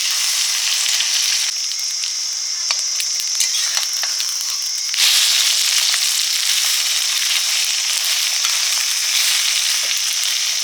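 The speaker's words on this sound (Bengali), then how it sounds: "ডিমের গোড়াটা মাখিয়ে ভাজলাম" Fish roe paste frying in oil in a kadai, a loud, continuous close sizzle that steps up sharply in intensity partway through, with faint stirring clicks and no talk.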